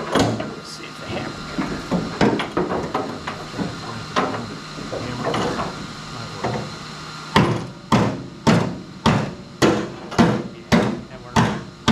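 Metallic hammer blows on the body metal of a 1967 Mustang convertible, irregular at first amid clattering and brief talk, then a run of loud, evenly spaced strikes close by.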